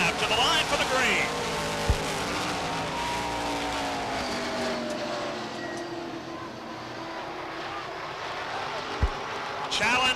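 Race cars circling Beech Ridge Motor Speedway during an ACT stock car heat in 1992, loud engines droning and shifting pitch as they pass, with a couple of sharp pops and a commentator talking over the roar.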